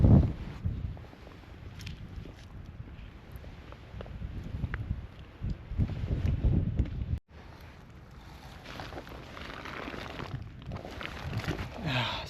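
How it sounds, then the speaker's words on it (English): Strong mountain wind on a rainy, exposed ridge in the Kaweka Range, roaring steadily into the microphone with loud buffeting gusts throughout. "Massive gust just came, knocked the camera, like blew the camera off that rock into the dirt."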